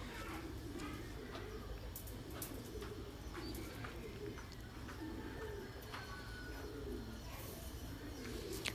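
Thai Titan pigeons over eight months old, kept in breeding cages, coo softly and repeatedly against a quiet, faintly noisy background.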